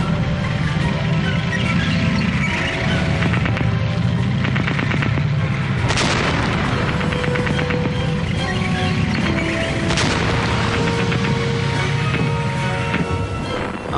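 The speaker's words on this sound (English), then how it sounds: "At last they got within effective range and opened fire again." British tank guns fire on a German A7V tank in World War I, a few sharp heavy blasts standing out over continuous rattling fire and rumbling engine noise.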